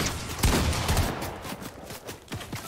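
Rapid bursts of video game gunfire crackle in an uneven fusillade, fairly distant and mid-loud, with the shots running into each other across the whole stretch.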